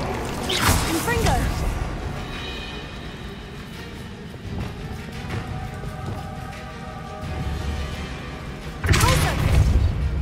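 A Confringo fire spell blast from Hogwarts Legacy bursts loudly near the end, following earlier whooshing spell sounds and crackling game effects, with a spoken voice early on.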